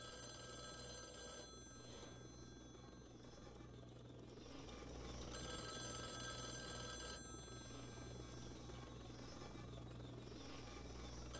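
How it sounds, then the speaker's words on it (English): Telephones ring continuously in the video game White Shadows, a steady electronic ringing that swells and fades in long stretches over a low droning background, faint and with no talking. "What do they have with the phones? Non-stop ringing something."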